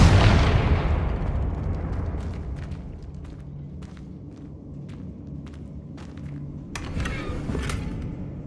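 A Confringo explosive spell in Hogwarts Legacy bursts with a loud, close blast that rolls off into a long fading rumble, followed by scattered sharp ticks and small pops.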